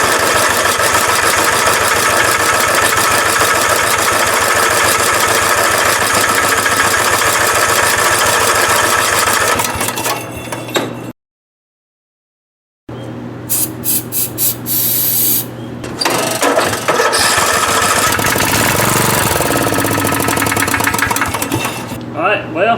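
A non-running lawnmower engine with a suspect carburetor and a manually worked choke fires and runs loudly and steadily nearby, cuts out for a couple of seconds, then starts up and roars again.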